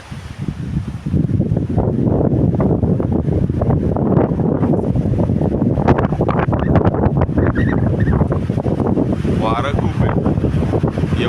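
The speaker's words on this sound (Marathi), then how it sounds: "एवढ्या लवकर वारं चालू व्हायला नको होतं" Wind gusting across an outdoor microphone in a village in mid-December produces a loud, continuous low rumble and buffeting that lasts the whole clip, with a faint voice briefly audible near the end.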